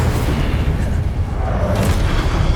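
Incendio fire spell cast in Hogwarts Legacy during a boss battle, a loud booming burst of flame with a rumbling low roar that carries on steadily, mixed with a voice and game noise.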